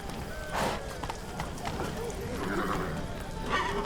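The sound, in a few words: horse Roach galloping in Witcher 3 video game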